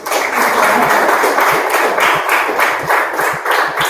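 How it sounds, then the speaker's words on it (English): Students applaud at an online workshop, close and loud clapping with a rough, compressed sound and audible individual hand strikes within a steady wash. "can you all give a big round of applause?"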